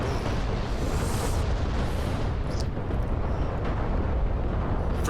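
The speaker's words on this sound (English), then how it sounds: "These are the rockets coming in, and they should be landing shortly." Rocket strikes on targets in the DCS flight simulator, a heavy, continuous rumbling roar of overlapping explosions with low booming energy, loud and sustained with no clear gaps.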